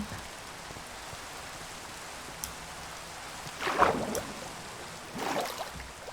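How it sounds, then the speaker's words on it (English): Steady soft rain patters throughout a Minecraft winter world, with a couple of brief louder splashing swells partway through. "And now it's back to rain."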